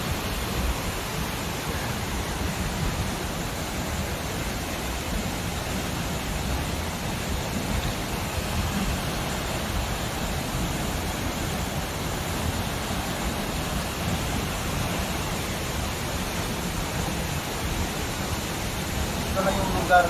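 Tuasan Falls, a waterfall in Catarman on Camiguin island, roars as a steady, dense broadband rush of falling water, loud and constant throughout with no break.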